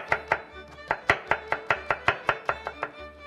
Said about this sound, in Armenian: Բարակ զողիկներով կտրատում ենք դդումը